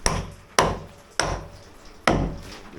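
A hammer strikes wood four times at a slow, irregular pace, each blow a sharp, close thwack that fades quickly, with no voices.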